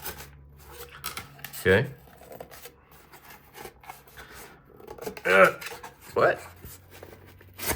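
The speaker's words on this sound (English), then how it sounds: "Let's see if we can cut this cardboard easily." Cardboard being cut with a sharp tool, a few short scraping, tearing strokes spaced apart, close and moderately loud, with brief speech between the cuts.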